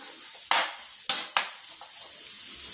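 Three-quarters of a cup of grated coconut fries in a pan until lightly browned, with a faint sizzle under two or three brisk scraping stirs.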